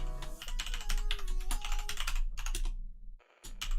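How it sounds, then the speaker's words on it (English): Rapid clattering keystrokes on a spare computer keyboard, close and steady for several seconds with a brief pause near the end before the typing resumes. "have to hear my keyboard ASMR now"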